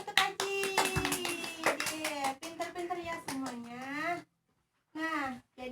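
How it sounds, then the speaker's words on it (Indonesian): Children in a classroom clap their hands in a quick burst while young voices chant loudly over it, then pause and resume briefly. "tepuk tangan untuk Ajid"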